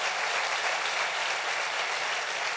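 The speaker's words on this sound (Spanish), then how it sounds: "Dale un aplauso bien fuerte al Rey bendito." Church congregation applauding loudly and steadily for the blessed King, a dense, even wash of clapping with no break and no clear voices over it.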